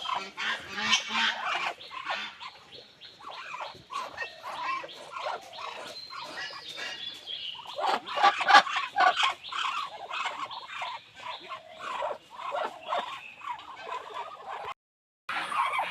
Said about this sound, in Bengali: খুবই একটা সুন্দর একটা মানের একটা হাঁস চীন হাঁস।